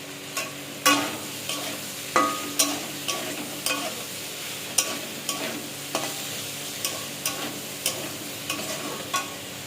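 Chopped tomato frying in a pan with potatoes for a vegetarian cabbage and bean dish: a steady close sizzle with repeated stirring scrapes and clacks at an uneven rhythm, no talking.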